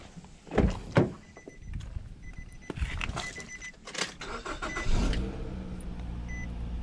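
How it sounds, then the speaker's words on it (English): A Nissan Rogue starts up after an alternator replacement, preceded by a few sharp clunks and rattles, then a rising crank and settling engine hum, heard close. "We'll start the vehicle up."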